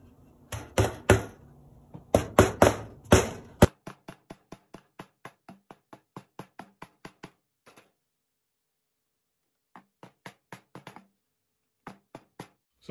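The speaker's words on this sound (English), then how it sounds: "I don't have a clamp, so I'm just gonna use nails to put them in place." Nails hammered into radiator cover moldings, a few loud clustered blows at first, then a long run of lighter, evenly spaced taps with short pauses, close and with no talk.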